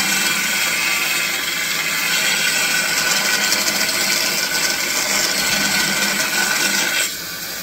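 A belt sander grinds steadily against a custom part, a loud continuous whirring rasp held close for several seconds before easing slightly near the end, with no voices.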